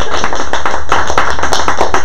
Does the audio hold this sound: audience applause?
yes